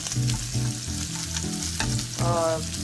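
Mutton sizzling and frying in butter in a pan, a steady loud sizzle with rhythmic stirring scrapes and clanks, no talk over it.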